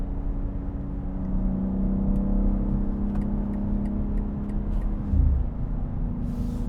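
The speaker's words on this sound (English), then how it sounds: "we're gonna do a pull on the highway here" A 2022 BMW X3 M Competition pulls hard on a highway, its engine drone climbing steadily in pitch from inside the cabin, with a brief shift-like dip and surge near the end.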